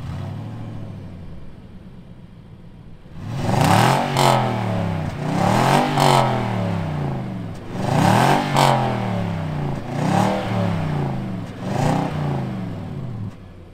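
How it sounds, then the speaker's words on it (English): A 2020 Nissan Titan Pro-4X V8 with a 9-speed automatic cranks and fires, then revs repeatedly in rising and falling sweeps, loud and close with a clattery edge between blips. "let's fire it up and see what 400 ponies sound like"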